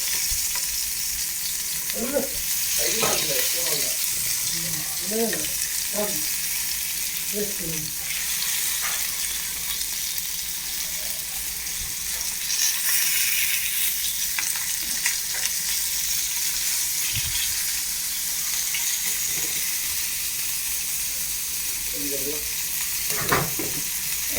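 Fish frying in oil in a pan gives off a loud, constant hiss and crackle close up, with occasional utensil clatters as pieces are flipped and brief murmurs of voices underneath.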